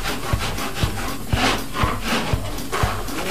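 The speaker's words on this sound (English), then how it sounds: "Scrape that stucco." Stucco being scraped off a ceiling with a hand tool, a loud, close rasping scrape repeated in steady strokes about every half second, with no talk.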